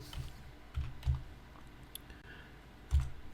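Typing on a computer keyboard while entering a network path to a Synology DS420 NAS, with a few separated key clicks and soft taps, fairly quiet and close, no talking.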